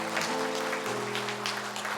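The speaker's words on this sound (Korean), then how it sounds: "큰 박수로 축하해 주시기 바랍니다." Church congregation applauding a new-member course graduate at a Korean Presbyterian Sunday service, with steady clapping throughout over a sustained organ or keyboard tone.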